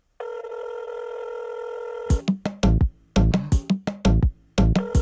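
A phone rings unanswered: a steady electronic ring tone plays for about two seconds, then cuts into repeated loud, bursty rings and beeps that keep going with short gaps, close and clear, with no one picking up.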